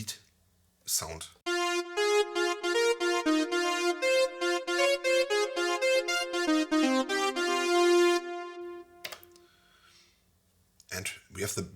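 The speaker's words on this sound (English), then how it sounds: "The lead synth, the Jupiter 8 lead sound." A bright Jupiter 8-style lead synth patch on a Korg Wavestate plays a loud, sustained melodic line of stepping notes for about seven seconds. A brief voice is heard before it and another after it.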